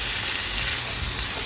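Chicken breast sautéing in a pan with garlic, onion and ginger, a steady, close, unbroken sizzle with no talking.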